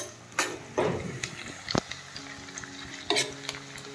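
Meat and onions frying in a pan for chicken biryani give a steady sizzle, with a few scraping stirs and clinks of a utensil against the pan, close and moderately loud. No one speaks.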